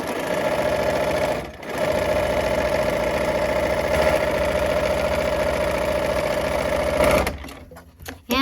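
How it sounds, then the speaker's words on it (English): A sewing machine stitches quilt half-square triangle units in a fast, steady run, close and clear, pausing briefly near the start and stopping toward the end, with no talking. "And we're gonna sew a 1/4 inch from both sides of that line."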